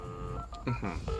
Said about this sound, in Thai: โทรศัพท์ ฮะอะไร